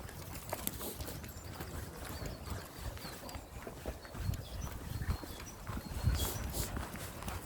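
Hooves clop steadily on hard ground, several horses walking at a moderate distance, with scattered rustling and outdoor background noise.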